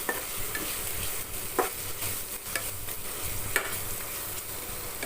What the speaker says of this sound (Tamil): கொஞ்சம் சிக்கன் மசாலா போட்டுக்கலாம் போட்டுட்டு ஒரு வதக்கி வதக்கிக்கலாம்